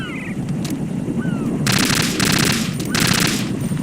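An AK assault rifle in Metal Gear Solid 2 on PS2 rattles off two quick automatic bursts, a longer one and then a short one, over a constant murmur of game background noise.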